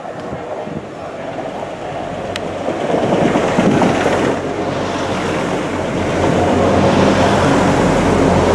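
Arriva Trains Wales Class 175 diesel unit 175116 on the service to Manchester Airport, a steady loud rumble and roar that builds slightly over several seconds, heard alone with wind noise and no talk.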